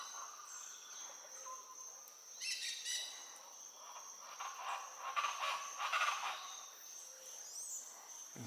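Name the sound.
many different birds singing in Ecuador forest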